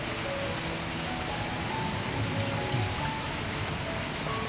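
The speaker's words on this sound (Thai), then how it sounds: "วันนี้ฝนตกเปียกหมดเนาะ" Steady rain falling outdoors in rural Surin, Thailand, under overcast skies, a dense even hiss with soft patter and a low rumble underneath, continuous and fairly close.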